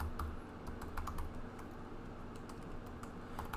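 Light, rapid keystrokes on a computer keyboard tap irregularly under a steady hum of room noise, faint and close, with no speech.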